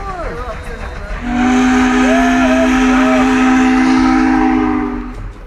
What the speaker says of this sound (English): nothing disrupts a podcast interview like an old-fashioned steam train